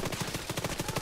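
Rapid automatic gunfire in an online military PvP shooter game, a fast, even stream of about a dozen sharp shots in one second, dense and fairly loud with no voices.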